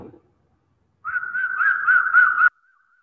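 A person whistles a single wavering tone for about a second and a half, clear and close, after a brief faint sound and silence.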